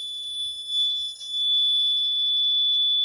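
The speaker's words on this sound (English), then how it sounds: "the buzzer is louder" A loud, steady high-pitched electronic buzz drones on without pause, with a brief dip in level midway and faint low knocks beneath.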